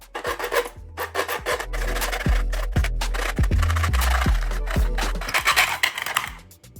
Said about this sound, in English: You go ahead and make that cut on the channel